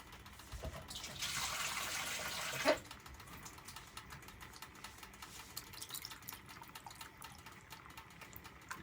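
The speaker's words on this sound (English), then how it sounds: "So I'm just gonna put more water in there, and then we'll rinse it and pour it back in." Water pours from a tap into a pot for palm nut soup, a brief steady rushing stream of about two seconds that ends with a clunk, followed by quiet clattering.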